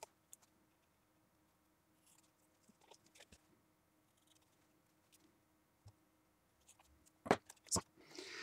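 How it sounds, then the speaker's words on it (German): Scissors trimming the overhanging edges of handmade deckle-edged paper being mounted with tape, heard as a few quiet snips followed by louder crisp cuts and paper handling near the end, in an otherwise quiet room. "werde ich einfach diese Überstände dann auch mit der Schere wegnehmen"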